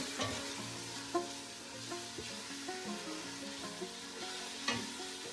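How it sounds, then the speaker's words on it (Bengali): Chopped onion, ginger and garlic sizzle steadily in a pan, with a spatula scraping and tapping against the metal now and then, close and without talk. "এটা পেঁয়াজ আদা রসুনের চপ পেঁয়াজ আদা রসুনের হ্যাঁ, চপ পেঁয়াজ হয়ে এগুলো একটুখানি ভাজা ভাজা করে নিয়ে আমি"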